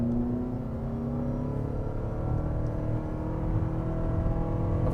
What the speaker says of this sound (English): that's all the gas engine making all the noise